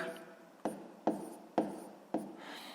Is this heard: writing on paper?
yes